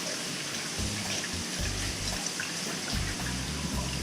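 A Kohler toilet under repair flushes and then refills, giving a steady, moderately loud rush of running water with a low gurgling churn throughout.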